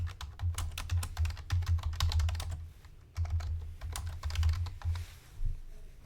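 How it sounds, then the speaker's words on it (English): Fingers tap out quick, irregular bursts on a computer keyboard, close and clear with a short pause midway, the typing filling the whole stretch without any talk. "If I want, I can type in that description here."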